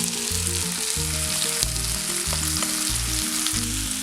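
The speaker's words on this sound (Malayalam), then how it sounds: "ഇതിലേക്ക് വറുത്ത് വെച്ചിരിക്കുന്ന ചിക്കൻ ഇടാം" Fried chicken dropped into sizzling onion masala in a pan, a loud steady hiss of frying held throughout, with low rhythmic hum beneath and no talk.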